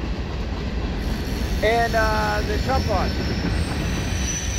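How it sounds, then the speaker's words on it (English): A train rolls by in the background near a pond during catfish fishing, a continuous low rumble with a brief squeal of wheels in the middle while someone speaks briefly. "Sorry about the train in the background"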